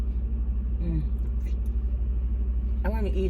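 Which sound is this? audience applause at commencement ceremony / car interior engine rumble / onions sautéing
car interior engine rumble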